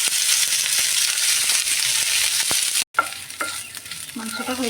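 Spice-coated chicken frying in oil in a wok, loud continuous sizzling with stirring scrapes and clatter, broken by a brief cut to silence before the sizzle resumes, no talking.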